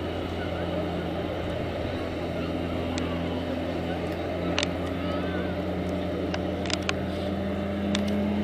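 The engine of a remote-controlled fire pump trailer runs at a steady drone at a safety day demonstration by emergency services in Westland, with faint clicks and voices in the background.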